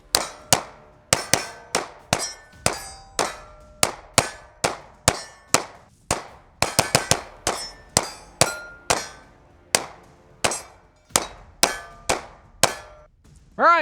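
A Smith & Wesson Shield X pistol fires through two magazines, a long series of sharp, ringing shots in a fairly steady rhythm with short gaps between them and no talking.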